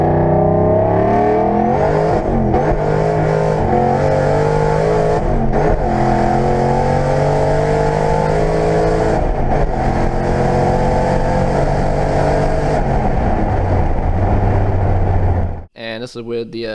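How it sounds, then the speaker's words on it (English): A car with an intercooler upgrade pulls hard from first through fourth gear, its engine loud and close. The revs climb and drop at each shift, then it lifts off sharply at the end. "here is a first through fourth gear pull"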